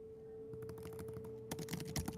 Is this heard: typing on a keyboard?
yes